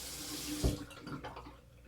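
Tap water runs steadily into a sink as someone rinses their face after shaving, a soft close hiss with a brief splash near the start.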